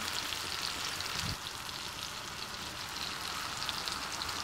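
Apples with light brown sugar simmering in a pan over medium-low heat, giving a steady soft sizzle and bubbling hiss that stays even and close throughout.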